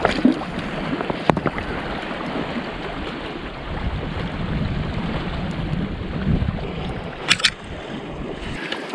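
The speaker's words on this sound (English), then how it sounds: "I'm just wading through" A person wading through high water toward a beaver trap set out on a point, with continuous sloshing and swishing of water close by, a few sharp knocks, and wind in the background.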